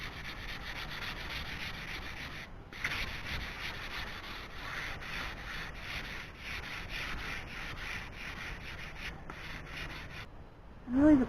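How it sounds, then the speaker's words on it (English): Steady rhythmic rubbing of super fine sandpaper on a wooden canoe paddle, strokes repeating back and forth at close range, pausing briefly twice, ending with a short louder scrape. "we're going to give it a light sanding with some really super fine sandpaper"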